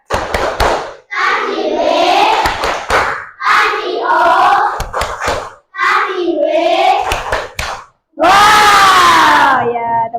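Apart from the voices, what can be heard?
classroom clapping to the 'tepuk wow' clap chant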